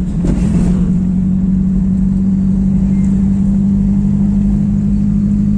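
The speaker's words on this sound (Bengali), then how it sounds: "ধরবো অ্যাক্সিলারেটর হালকা করে" A car engine hums steadily and close up as the accelerator is pressed lightly during a driving lesson, producing a smooth, even drone with a faint rise at the start and no talking.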